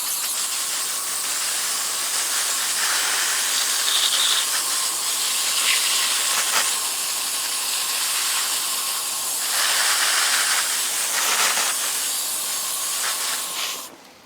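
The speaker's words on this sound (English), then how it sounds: "Now I'm going to give that another quick little spray" A garden hose sprays water steadily over a bed mulched with shredded paper, a loud, continuous broadband hiss lasting about fourteen seconds with slight surges before cutting off at the end.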